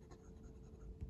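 Gravitas Pens Delrin fountain pen with a medium steel nib and Diamine ink writing on paper, giving a faint, close, continuous scratchy scrawl with a few light strokes, and no voices.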